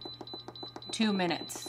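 An electric pressure cooker beeping as its pressure cook button is pressed, a quick series of short, high, evenly spaced beeps, followed by a person speaking.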